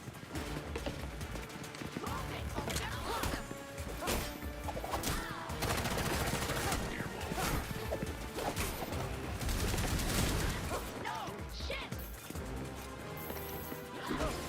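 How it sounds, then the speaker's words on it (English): Repeated turret gunfire in the video game Gotham Knights, a dense, continuous barrage of loud shots and crashing impacts layered with game music and effects, with no break in the fire. "this turret is gonna keep firing, isn't it?"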